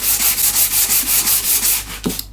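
Hand sanding by a wooden block wrapped in sandpaper scrubs rust off a cast iron tool top, a close, steady rasp in even back-and-forth strokes, about nine passes, heard alone.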